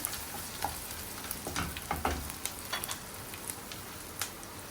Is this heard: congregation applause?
no